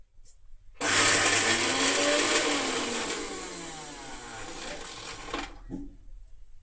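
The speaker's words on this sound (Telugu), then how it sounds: "ఇప్పుడు మనం నానబెట్టుకున్న పచ్చిశనగపప్పుని ఒక అల్లం ముక్క ఒక చిన్న పచ్చిమిర్చి వేసి ఇలా మిక్సీ పెట్టాను" A kitchen mixer grinder grinds soaked chana dal with a piece of ginger and a green chilli, starting abruptly with a loud steady whirring roar that runs about five seconds, then cuts off.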